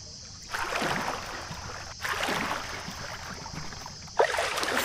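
Water splashes in a pool in the VRChat game, three surging swishes a couple of seconds apart over a low watery background, with no talking.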